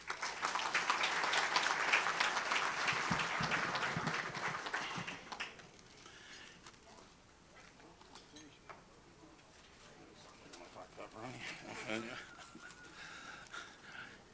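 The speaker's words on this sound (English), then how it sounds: "I'd like to give a round of applause" A crowd at an athletics awards event gives a round of applause, a dense, even roar of clapping that fades out after about five seconds. Faint room noise and scattered sounds follow.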